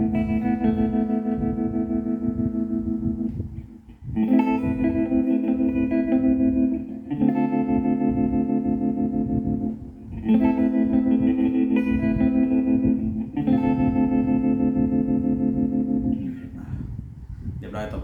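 An electric guitar played through an effects unit rings out in several long, shimmering, distorted chords with echoing swirl, each held a few seconds before the next.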